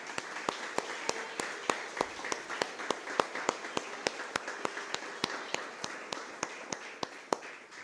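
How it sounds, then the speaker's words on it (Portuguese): A church congregation claps at the close of a service, a steady stream of sharp, evenly spaced claps running throughout at moderate distance, with no voices on top. "Você pode aplaudir ao Senhor?"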